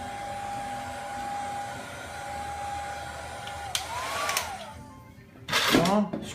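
A hot-air tool blows under an electronic part to soften a sticky thermal pad, a steady whining hum that wavers in pitch, then ends in louder bursts of airflow and handling noise.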